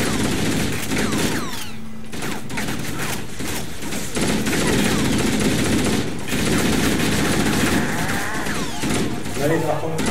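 Dense machine-gun fire rattles almost without pause through a Halo CE battle, loud and close, with voices talking over the shooting.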